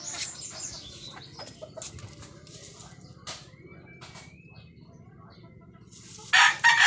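A Boston Roundhead gamecock crows once in a short, loud burst near the end, after a stretch of faint clucks and quiet farmyard background.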